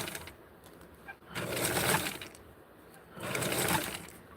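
A sewing machine stitches a small Barbie doll blouse in two loud bursts, each running about a second, with a quieter pause and faint clicks between them.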